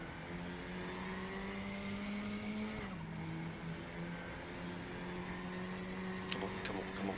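A KTM race car in the RaceRoom sim at Lausitz holds a steady engine drone while its tyres squeal and scrub, pitch dipping briefly midway, with a few sharp clicks late, no voices.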